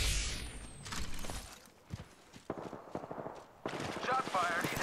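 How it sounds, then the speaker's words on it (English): Gunfire in Apex Legends comes in rapid bursts and single cracks amid game effects and movement noise, fairly loud and busy, with a voice speaking over parts of it. "Shot fired."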